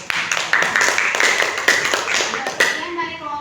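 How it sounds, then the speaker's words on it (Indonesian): Classroom audience of students applauding in a brisk, continuous burst of hand claps that tapers off near the end, fairly close and dense. "Berikan tepuk tangan kepada kamu."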